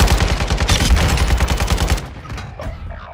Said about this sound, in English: Getting shot in the back.